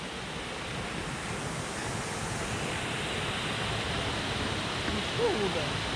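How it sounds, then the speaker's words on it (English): Steady rushing water from a waterfall beside a woodland footpath on a Peak District hill walk, a continuous broadband roar close by, with a brief voice near the end. "there's some waterfall next to us"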